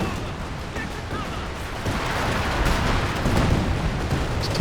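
A Land Mattress rocket artillery barrage in Company of Heroes 2, heard as a dense, continuous roar of rumbling blasts that swells slightly louder partway through.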